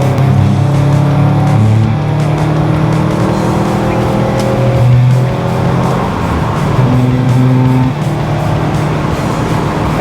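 Subaru WRX STI engine pulling hard as it accelerates to pass another car on a faster section of track, a steady loud in-car drone with rising engine tones and road roar throughout.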